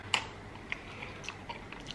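Mouth chewing potato dipped in sour cream, soft close wet crunches at an irregular pace, one sharper bite at the start, alone without talk.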